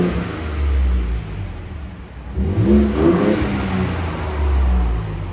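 Ford Raptor 3.5L twin-turbo V6 on its quiet stock exhaust revving from idle, a fairly subdued engine note swelling once mid-clip and settling back, heard alone without talk.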